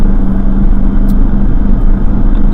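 A 2011 Cadillac CTS-V coupe's engine rumbles steadily at close range while driving, a deep, even drone with faint road noise and no voices.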